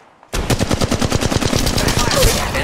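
Rapid automatic gunfire from the mobile battle royale game Apex Legends Mobile, a loud sustained burst of evenly spaced shots that starts abruptly after a brief quiet moment and keeps going to the end.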